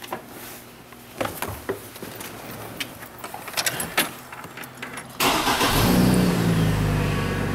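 A 2008 Chevrolet Trailblazer with the 4.2 engine, in for a no-communication fault, cranks with faint clicks then fires up at about five seconds and settles into a steady, loud, close idle.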